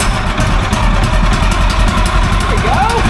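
Just after starting, the small engine of a Woodland Mills HM126 sawmill idles roughly up close. Voices talk over its steady, uneven chugging.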